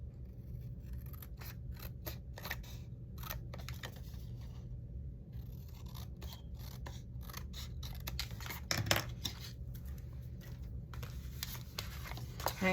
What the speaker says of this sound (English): I'm gonna just cut this piece here.